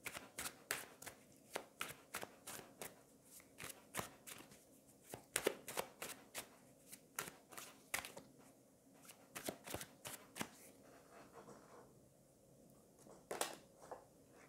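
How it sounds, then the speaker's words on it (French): Tarot cards are shuffled up close in a quick run of crisp riffles and slaps, repeating in bursts with short pauses between them, alone and without talk. "on va aller prendre une carte supplémentaire"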